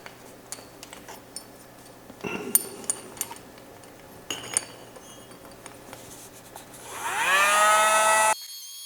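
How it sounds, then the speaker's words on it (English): After several light clicks and clinks, a Dremel rotary tool spins up to a high-pitched rising whine for a little over a second while smoothing a part, then cuts off abruptly. "I have a Dremel, and what we're going to do is smooth this out a little bit"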